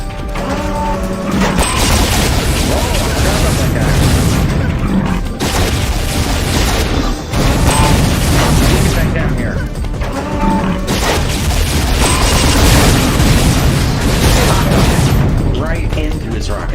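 Rocket explosions in the shooter game Unreal boom repeatedly in loud, dense crashes, overlapping with game noise and a player talking throughout.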